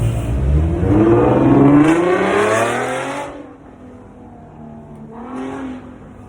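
A bus that is out of service drives past close by: a loud engine roar swells for about three seconds and then fades. A quieter vehicle surge follows near the end.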